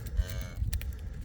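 Cow lowing beside her newborn first calf on a farm, a few short close moos over a low steady background.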